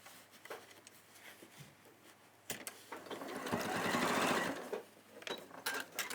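A domestic sewing machine stitches cotton canvas in rapid bursts, with a short pause before a longer, louder run of steady needle chatter that tapers into brief stops and starts.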